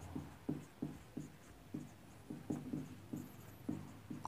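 Pen or chalk strokes tap and scratch in a steady rhythm of short, close, quiet marks, heard alone without speech.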